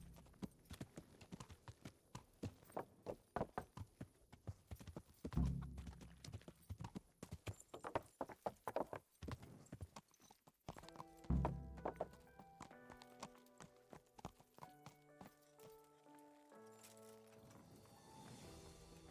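Rapid hoofbeats clatter as a horse trots in a video game, with thumps and a whinny, followed by synthetic game tones and music in the background.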